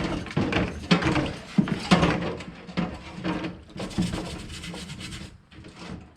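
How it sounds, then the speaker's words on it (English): Brass wire brush scrubbing a metal heater box part from a Toyota Land Cruiser FJ40 in quick rhythmic back-and-forth rasping strokes, close and moderately loud with no talk. "Give it a little clean up with a wire brush."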